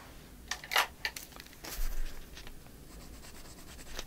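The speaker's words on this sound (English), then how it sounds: "We're going to cut it off right about there." A paper journal card is cut with scissors, giving a few sharp, brief snips and crisp rustles close by, then quiet handling, with no talking.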